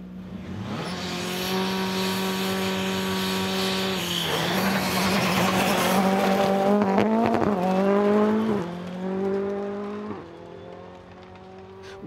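A rally car at full throttle on the Pundershaw forest stage in Kielder, its engine revving hard through repeated gear changes with brief tyre scrabble, loud and close, then fading slightly as it passes.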